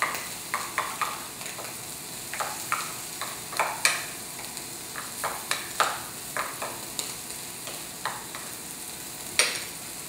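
A spoon stirs mascarpone cheese into a cream and butter sauce in a pan, with repeated soft scraping strokes in a loose rhythm over a faint background sizzle, close by and with no talking.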